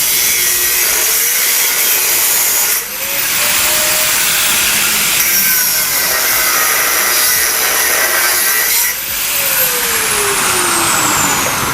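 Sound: cutting off motorcycle exhaust slip-on fitting

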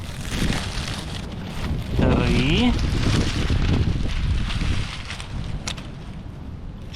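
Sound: strong wind outdoors

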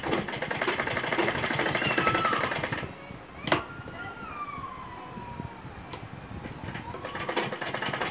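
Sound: sewing machine stitching a loop onto fabric

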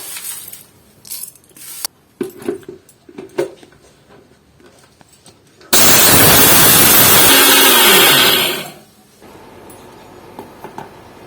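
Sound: grinder grinding ingredients for chocolate Horlicks

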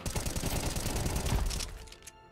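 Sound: gunfire in video game CS:GO

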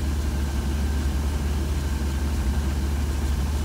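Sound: 1966 Cadillac engine idle hunting with Holley Sniper IAC

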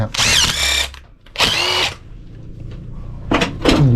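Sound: electric drill

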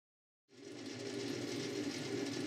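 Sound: metal lathe running slowly while machining a nut

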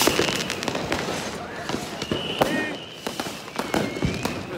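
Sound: New Year's fireworks in Hamburg

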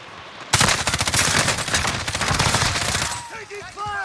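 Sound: gunfire in a video game

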